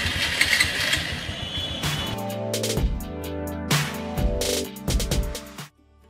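Motorbike engine fitted with a DIY voice-control start system cranks and catches, then runs with uneven revving bursts before cutting off near the end.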